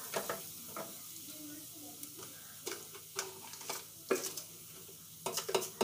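Coarsely crushed peanuts roasting in ghee for a fasting-day potato fry, with a soft steady sizzle broken by scattered sharp ticks and scrapes of a spoon stirring against the pan, close and fairly quiet.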